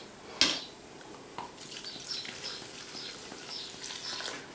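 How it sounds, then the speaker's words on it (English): Beef and beer go into a cooking pot for steak and ale pie. A sharp clank of metal comes first, then another knock, followed by soft sizzling and gentle stirring that goes on quietly. "I'm going to pop all the beef in there and the beer"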